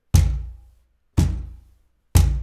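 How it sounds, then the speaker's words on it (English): Three deep open-palm bass strikes on a cajon, evenly spaced about a second apart, each a close, punchy low thump with a short decaying resonance, followed by silence and no voices. "you want to hit the cajon, and your hand is going to come away from the cajon as soon as you hit it"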